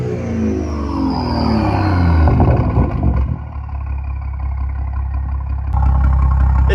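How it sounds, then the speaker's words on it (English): BMW M240i with a B58 engine and MHD tune, loud and close: a heavy revving engine note builds, then drops back to a rough, diesel-like idle with the whir of the turbo spooling down, and a second blip near the end. "you can literally hear the turbo spooling, like just chilling there when it goes down"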